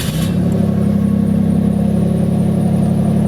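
A 1991 Pontiac Firebird with a 3.1 liter V6 and aftermarket exhaust catches after a brief start at the beginning and settles into a steady, loud, close idle with a deep even drone.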